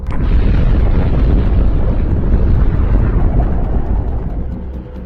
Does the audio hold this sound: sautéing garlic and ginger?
no